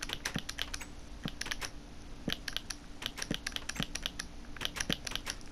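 Rapid computer keyboard and mouse clicking while building in Minecraft: a quick, irregular stream of sharp, close clicks with brief pauses, heard alone without talk.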